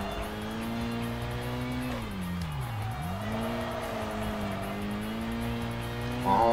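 A car drifts in the Kaido Racer 2 racing game, its engine holding a steady drone that dips and swoops back up through the slide, with a tire squeal near the end.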